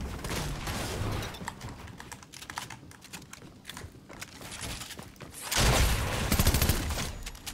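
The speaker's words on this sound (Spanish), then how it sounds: "¿Quién me está disparando?" Rapid Fortnite gunfire crackling in dense bursts that grow louder and heavier toward the end, mixed with clattering keyboard clicks from a player, continuous and with no talking.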